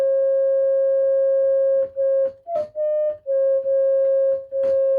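A pure electronic tone from a Moog Satellite analog synthesizer holds steady, briefly stepping up in pitch and back, with soft clicks and short gaps breaking it several times.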